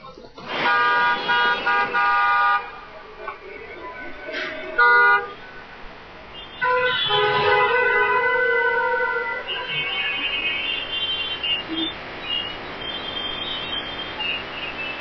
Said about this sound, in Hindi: ट्रैफिक जाम की ये तस्वीरें हम आपको दिखा रहे हैं।